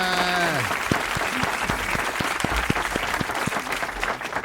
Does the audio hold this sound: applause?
yes